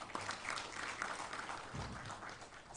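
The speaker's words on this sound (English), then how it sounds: "Another round of applause." Audience applause at an LPG summit and exhibition in Mombasa, a steady wash of clapping from a large crowd that holds through the whole stretch at moderate level, with no voices over it.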